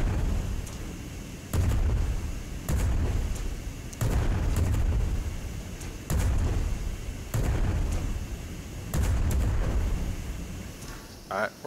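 Ship cannons firing during a sky battle in Worlds Adrift: booming shots at regular intervals of about a second or two, each with a long rumbling decay, loud and close over continuous engine and wind noise.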